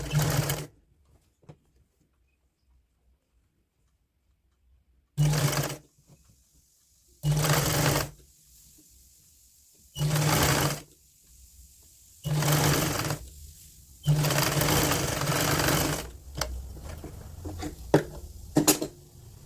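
Sewing machine stitching a woolen kurti sleeve, running in five or six separate bursts of rapid, even mechanical whirring, each lasting one to two seconds, with silent pauses between them and no talking.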